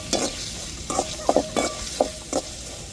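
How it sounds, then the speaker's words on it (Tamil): Ginger, garlic and green chili frying in a pan, with a steady sizzle broken by about six short scraping stirs of a spoon against the metal, close and fairly loud. "இப்போ இஞ்சி பூண்டு சேர்த்துக்கிடுவோம் இப்போ பச்சை மிளகா சேர்த்துக்கிடுவோம்"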